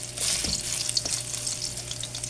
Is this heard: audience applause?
no